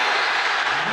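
Stadium crowd at a Kansas State vs. Kansas college football game roaring in a broad, sustained wash of cheering, loud and continuous for a brief moment with no break.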